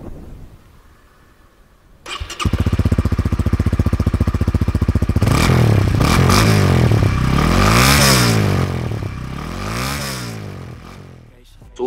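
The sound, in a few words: Honda Winner X motorcycle stock exhaust revving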